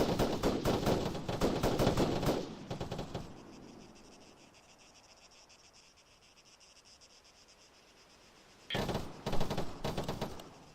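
Bursts of gunfire from platoon training with tracer rounds fired toward a ridge, loud rapid volleys at the start and again near the end, separated by a quiet stretch of insect-like chirping and wind.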